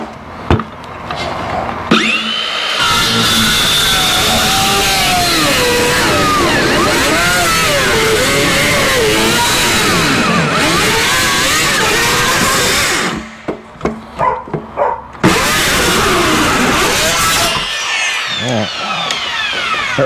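A loud power saw cuts boards for a raised garden bed in long sustained whining passes, close up, with a brief stop and a few knocks before cutting resumes.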